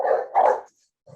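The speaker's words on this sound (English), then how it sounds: "I have a dog, and he's a little tiny dog." A little tiny dog gives two quick, sharp barks close to the microphone, followed by a brief pause and the start of a third yap.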